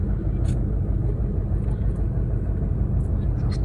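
Inside an intercity bus on the highway from Astana to Almaty near Balkhash, a loud steady engine and road rumble fills the cabin without a break.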